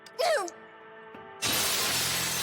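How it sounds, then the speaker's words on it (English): A short voice-like cry, a pause, then a sudden loud crash of shattering glass that keeps rushing on to the end, in the video game Honkai Impact. "Then came a thud accompanied by a shatter."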